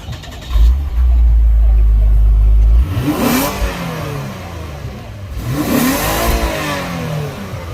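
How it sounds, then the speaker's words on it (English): A 2021 Lexus IS350 F Sport revs through its exhaust in two rising bursts after a low idle rumble, each rev swelling loud and close then falling back. "Let's get an exhaust note and see if that exhaust note really matches to the sports car name"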